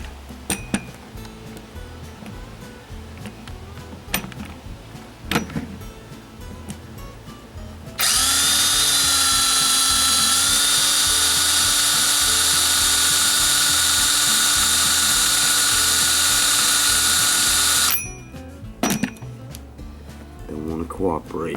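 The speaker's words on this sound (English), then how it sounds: "Alright, I gotta do is drill a hole in it." A power drill bores a hole, running loud and continuous for about ten seconds, bracketed by sharp clinks and tool handling before and after.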